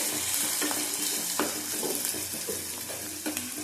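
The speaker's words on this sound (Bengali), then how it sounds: "ভালো করে ভেজে নেব।" Chicken tarka with chopped ginger sizzles and crackles loudly in a hot pan, with steady frying hiss and occasional stirring clicks, no voices.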